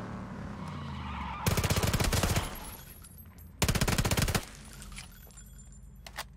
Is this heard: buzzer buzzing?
no